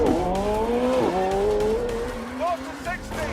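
McLaren Senna launching at full throttle, the engine note climbing sharply, dropping at a gear change, then rising again, loud and close, with tire squeal and brief squeaks.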